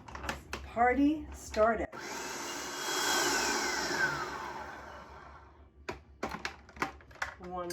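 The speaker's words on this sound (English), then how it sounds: "next part involves the food processor to puree this all together" A food processor whirs loudly for several seconds, pureeing cashews with sautéed mushrooms for mock chopped liver; a voice talks briefly before and after, with clicks and clatter of the machine at both ends.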